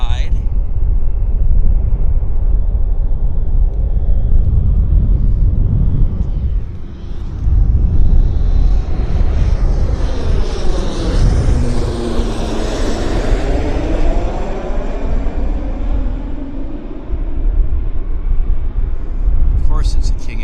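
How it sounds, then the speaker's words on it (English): King Air turboprop aircraft landing at Vancouver International Airport, a loud sustained engine roar that swells and sweeps in pitch as it passes nearby, with people talking over it. "aircraft landing on my side."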